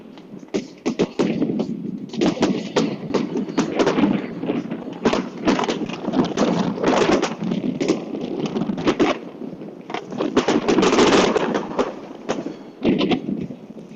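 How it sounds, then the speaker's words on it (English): Dense, continuous crackling and popping bursts of fireworks going off for the whole stretch, loud and close, with brief swells of heavier booms, heard from a boat at a Vendée Globe sailing race finish in France. "I didn't think I'd get to see fireworks today."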